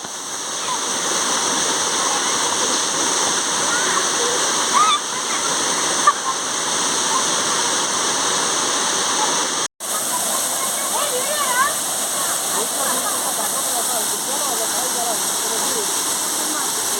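Constant loud roar of rushing, falling water, broad and unbroken, with a brief cut partway through and faint voices under it.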